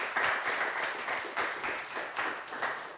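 Studio audience applause for the winner of a French TV quiz show, a sustained round of clapping in waves, moderately loud and fairly close, with no talk over it.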